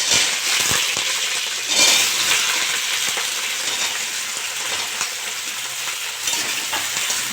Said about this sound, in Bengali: আমি এবার বেগুনটা দিয়ে দেবো।